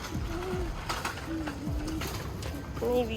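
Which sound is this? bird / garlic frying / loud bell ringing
bird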